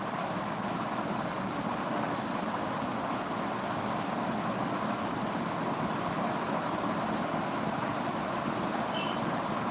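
A vehicle on the road while someone drives, with a steady, unbroken rumble of road and engine noise from inside the cabin that stays constant throughout, with no talk.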